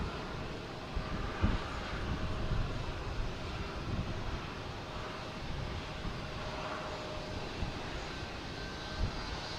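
A Delta Embraer E175 jet arriving from Baltimore at Boston Logan Airport, its engines a steady, distant broadband roar with a faint whine, heard from an outdoor spotting spot with no talk.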